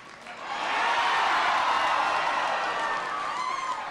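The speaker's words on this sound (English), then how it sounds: "Thank you for the wonderful, wonderful reception." Crowd in Kotzebue, Alaska cheering and applauding a presidential speaker, a swelling roar of claps and whoops that rises quickly, holds loudly, then begins to ease off.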